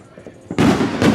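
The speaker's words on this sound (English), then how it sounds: "I'm gonna watch fireworks and drink this little Capri Sun." Fireworks burst outdoors, first a faint pop, then two loud, close, crackling explosions in quick succession.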